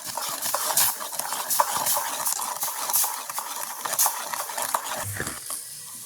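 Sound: stirring cherry jam while cooking

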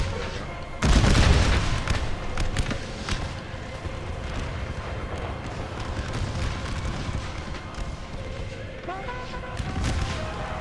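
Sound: fire roll of gunfire in Civil War video game

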